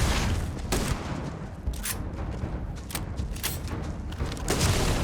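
Repeated shotgun blasts in the video game Starfield, several sharp booming reports spaced unevenly across a dense, loud combat soundscape, with no voices over them.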